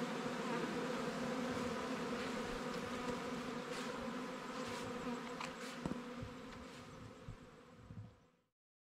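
A swarm of honey bees buzzes in a dense, steady drone that holds loud and close for about eight seconds, with a few nearer bees flitting past, before it cuts out abruptly.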